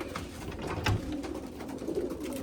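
A pigeon or dove coos softly amid low background noise, a few faint rounded calls spread across a couple of seconds in an outdoor loft setting.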